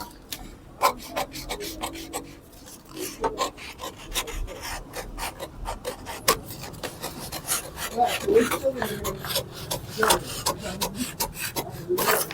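Scissors cut through blouse fabric on a work surface in a series of close, rasping snips and rubs with short pauses, nobody talking.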